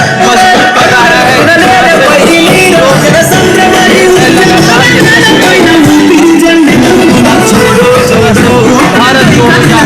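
Dense crowd roar and babble from people welcoming Rahul Gandhi on the Bharat Jodo Yatra, a loud continuous hubbub with shouts and voices mixed in throughout.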